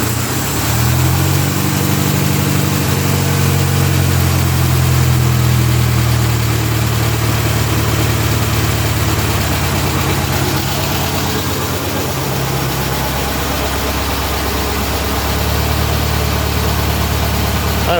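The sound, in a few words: stock 1600cc VW engine idling on a dyno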